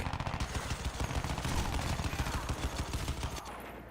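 Gunfire in Crysis 2 Remastered on the Switch, a dense, continuous burst of rapid automatic shots lasting several seconds, loud and close, with no voices over it.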